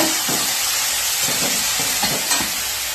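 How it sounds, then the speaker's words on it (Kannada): Washed mint leaves frying in a pan give a steady, close sizzle with repeated scraping stirs, with no voices. "ಪುದೀನ ಏನು ಚೆನ್ನಾಗಿ ತೊಳೆದು ಇಟ್ಕೊಂಡಿದ್ದೆ, ಅದನ್ನು ಚೆನ್ನಾಗಿ ಫ್ರೈ ಮಾಡ್ಕೊತಾ ಇದ್ದೀನಿ"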